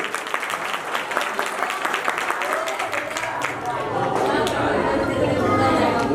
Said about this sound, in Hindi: तो एक बार ताली बहन जी के लिए भी हो जाए।